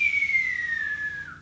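A single clear, sustained whistle that slowly glides downward in pitch, then drops slightly at the end, close and fairly loud over faint background hum.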